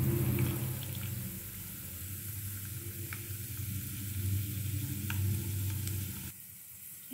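Chana dal and urad dal frying in hot oil for a mint, red chilli and tomato chutney, a steady close sizzle with a few faint clinks of stirring, no voices.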